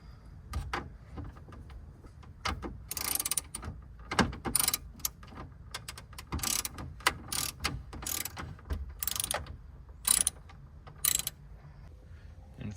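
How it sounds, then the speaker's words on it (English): A ratchet on a 7mm metric deep socket backs out the screws holding the radio of a Ford F150 truck, making bursts of quick clicking pawl sounds with brief pauses between them, close and fairly quiet. "we're gonna actually take out these 4 screws on the sides"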